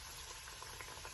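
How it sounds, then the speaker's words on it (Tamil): Potato rolls deep-frying in hot oil for a crispy aloo roll snack, giving a faint, steady bubbling sizzle with small crackles throughout and no voices. "இது பாருங்க எவ்வளோ அழகாக வந்து ரோஸ்ட் ஆகிட்டு இருக்குன்னு, பொரிஞ்சுக்கிட்டு இருக்குன்னு இது பபுள் வருது"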